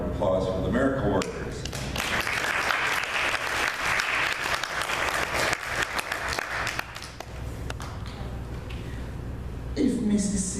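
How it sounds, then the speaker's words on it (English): An audience applauds in a dense, sustained burst of clapping lasting several seconds, fading slightly near the end, with a speaking voice at the start and finish. "let's have a round of applause for the miracle workers"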